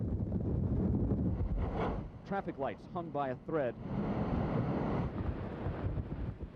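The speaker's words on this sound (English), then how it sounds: "Wind gusts close to 100 miles an hour sucked the roofs from homes." Hurricane Frances wind gusts roar as a loud, constant rush of blown air and microphone buffeting, with someone speaking over the storm noise in the middle.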